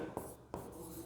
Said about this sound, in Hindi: तो लाइन लिखते हैं अपन